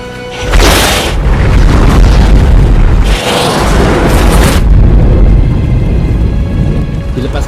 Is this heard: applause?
no